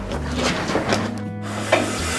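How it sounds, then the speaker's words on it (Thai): A pot of Shan-style fish-sauce curry soup for khanom chin boils steadily, with a dense, continuous bubbling and hissing that stays fairly loud throughout. "ดูดูความเดือดของน้ำแกง ของเรา"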